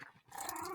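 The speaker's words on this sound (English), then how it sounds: "Sorry, my dogs are barking." Dogs growling and barking in a home, a short rough burst that swells and holds loud over the last half second, no talking over it.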